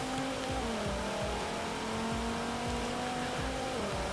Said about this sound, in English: So accelerating down to the first corner as before.